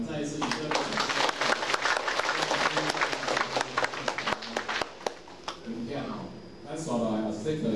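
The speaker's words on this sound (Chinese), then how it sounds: "我们再次以热烈掌声" Warm applause from a gathered audience, many hands clapping in a dense run that thins into scattered claps, with voices talking over the latter part.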